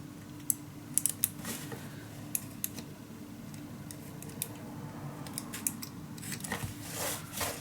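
Scissors snip through paper for a steampunk Christmas craft project, with faint, irregular clicks and cuts scattered over a low steady hum in a quiet room.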